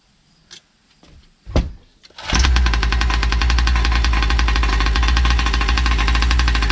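A Primal RC Raminator nitro engine being broken in roars to life after a few quiet clicks and a short pull, then runs loud and steady at a high, buzzing idle without letting up.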